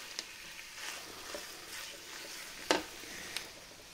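Chicken pieces browning in a hot pan make a soft, even sizzle with a few sharp pops and one louder spatter, heard up close with no talking.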